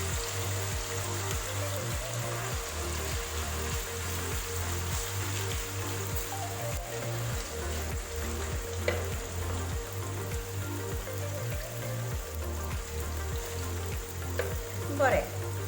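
Pieces of food for biryani shallow-fry in hot oil with a steady close sizzle and crackle, while a low rhythmic hum pulses underneath.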